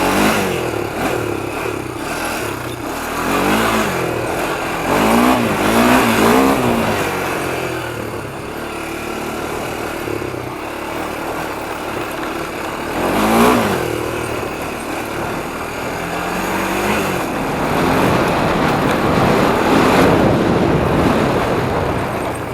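A 1993 Honda 300EX ATV engine revving while being ridden, its pitch rising and falling in repeated throttle surges over a constant loud mechanical drone, with no talking.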